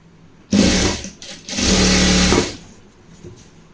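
A sewing machine stitches elastic into the waistband of trousers, running in two close, loud bursts of fast whirring with a short pause between, then falling quiet.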